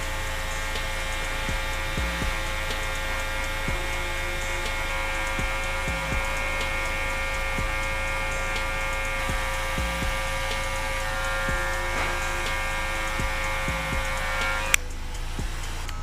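Electric hair clippers fitted with a half guard run as a steady, close hum while cutting men's hair in a fade, the motor's drone holding level throughout with faint rhythmic ticks and a brief click near the end.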